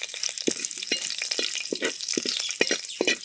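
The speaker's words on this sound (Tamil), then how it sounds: "அந்த எண்ணெயிலேயே தாளிப்புங்க. ஒரு 1/2 டேபிள் ஸ்பூன் அளவு கடுகு உளுந்து கலப்பு, ஒரு 3 வரமிளகாய், ஒரு கொத்து கருவேப்பிலை தாளிச்சு இறக்கி வச்சுக்க போகிறோம்." Mustard seeds, urad dal, dried red chillies and curry leaves tempering in hot oil, giving a close, steady sizzle with scattered sharp pops and crackles throughout.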